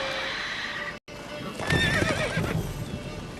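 Roach the horse in The Witcher 3 gives a close, loud whinny after a brief cut, over a low rumbling game background with faint hoof sounds.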